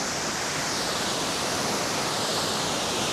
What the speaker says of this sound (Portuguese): Chegamos na parte de cima da cachoeira.